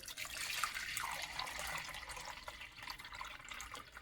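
Filtered water pours steadily into a crockpot holding a one-pound bag of white beans, a continuous close splashing and trickling stream that swells early and then keeps running at an even level with no talk over it.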